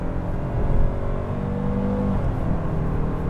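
A gasoline Renault Samsung QM6 SUV accelerating, heard from inside the cabin: a steady low engine drone that swells briefly and then holds, with road rumble and no talk.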